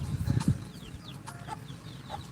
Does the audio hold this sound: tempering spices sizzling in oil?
no